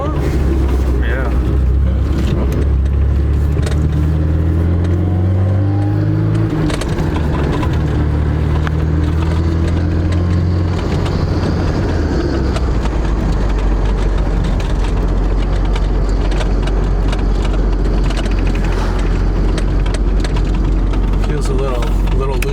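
An early European-spec Porsche 924 engine drones loudly and steadily from inside the moving car, its pitch climbing and falling through gear changes, with road noise and people talking over it.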